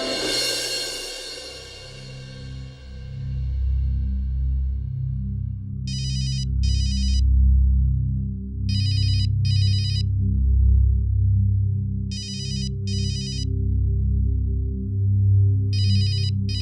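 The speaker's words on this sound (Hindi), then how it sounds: "तेरा फोन आ रहा है।" A mobile phone rings in repeated double bursts of a high trilling tone, four rings at steady intervals over a low droning background hum.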